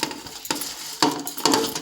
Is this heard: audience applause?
no